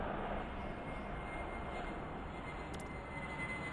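Airplanes taxi and take off in the video game Airport Madness, a steady, moderate engine rumble that holds through the whole stretch, with a few faint clicks near the end.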